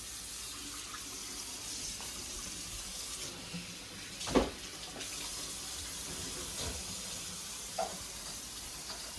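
Water runs steadily from a kitchen tap into a pot while cooking, a continuous hiss with a few clanks and knocks of cookware mixed in, close and moderately quiet, no talk.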